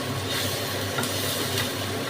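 Bottle gourd peels frying in a hot pan with a steady, even sizzle, continuous hissing with no talk.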